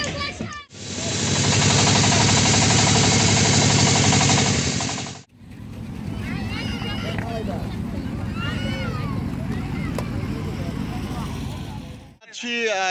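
A boat leaving the bank on a river trip to Sada Pathor near Jaflong in Sylhet: a loud, steady motor roar for several seconds, then the engine continues more softly under people talking.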